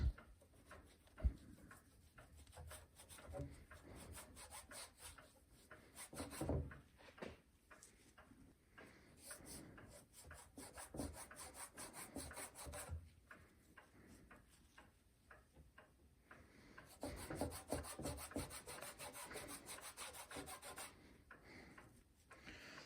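Renaissance wax being rubbed by hand onto a silvered clock dial, a soft, faint rasping and scrubbing that comes in uneven bursts over a long stretch, with small ticks and knocks here and there and no talk.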